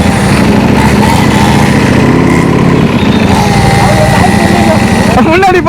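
A Ducati motorcycle ridden fast on a city road, its engine droning loud and close throughout with wind rush, while riders chat over it.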